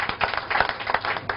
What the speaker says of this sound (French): Excellence le Dr Alassane Dramane Ouattara, que je vous demande d'applaudir